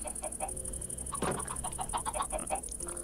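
Chickens cluck softly in the video game Minecraft, with short, scattered clucks over a quiet, steady background hum and no talking.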